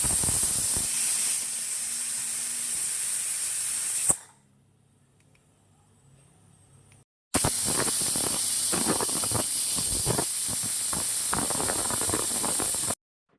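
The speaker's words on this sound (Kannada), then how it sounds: "ಈಗ ಕುಕ್ಕರ್ ಕೂಗಿ ಆರಿದೆ" Pressure cooker hissing loudly as it vents steam while a mushroom biryani cooks, a steady broadband rush that cuts out for about three seconds and then returns just as strong.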